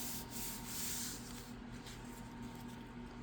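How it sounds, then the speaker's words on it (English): Paper pieces rubbed down onto a card during stamping and card-making, a soft steady scraping hiss that continues for about three seconds at low volume, with no talk. "Give it a little rub down."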